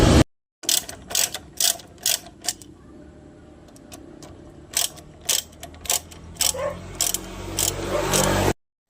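A ratchet wrench clicks in quick bursts while two bolts are loosened from the front brake caliper of a Honda ADV160 scooter, close and crisp, followed by rustling metallic handling.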